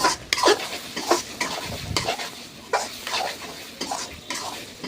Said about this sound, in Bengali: এবার সামান্য হলুদ দিলাম, লঙ্কা, আদা রসুন পেঁয়াজ দিয়ে এটা ভালো করে লাল লাল করে কষিয়ে নেব।